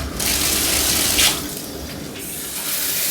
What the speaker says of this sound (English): let's rinse this out